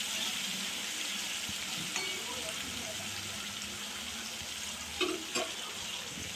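Potatoes sizzle steadily in hot oil in a pan while being stirred for a Bengali cabbage curry, with occasional utensil scrapes and taps over the constant frying hiss.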